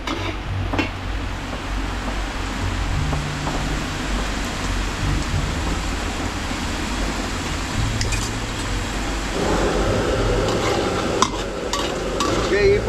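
Garlic frying in butter in a pan for a garlic shrimp dish at a catering set-up, a continuous crackling sizzle with stirring scrapes that grows busier and louder toward the end.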